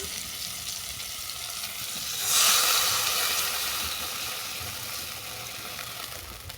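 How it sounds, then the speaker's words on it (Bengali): Water poured into a hot pan of frying vegetables bursts into a loud hiss that swells and fades into a steady, quieter simmering sizzle. "এরপর পরিমাণ মতো জল দিয়ে দিচ্ছি"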